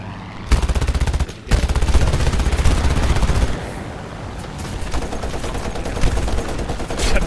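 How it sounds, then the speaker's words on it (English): Rear gunner's machine gun fires from an aircraft in War Thunder, Japan campaign: loud sustained bursts of rapid gunfire with a brief pause early, then continuing volleys that thin toward the end. "I'm shooting him from my gunner"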